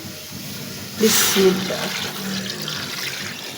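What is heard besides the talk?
water poured into a pressure cooker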